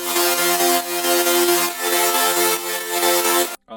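Layered melodic dubstep tear-out drop synths: dense, sustained chordal tones with bright buzzy upper harmonics, pulsing in steady rhythmic surges, loud and alone, cutting off abruptly near the end.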